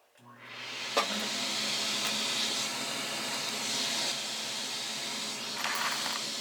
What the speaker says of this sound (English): you'll have to excuse the vacuum noise.